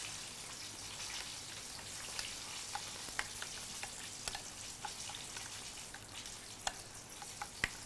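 Eggplant frying in a pan gives off a quiet, even sizzle while being stirred and turned, with soft scattered ticks of the utensil against the pan and no voices.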